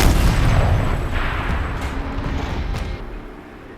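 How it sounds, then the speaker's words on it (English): A turret cannon fires in Horizon Zero Dawn, a single loud, heavy boom at the start that rolls out into a long, fading rumble and hiss over several seconds. "Rotate turret! And fire!"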